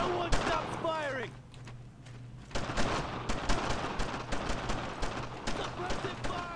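Rapid bursts of small-arms gunfire in the World War II shooter game Brothers In Arms: Road to Hill 30, with repeated sharp shots and explosions throughout, loud and dense, mixed with game voices and a player talking over it.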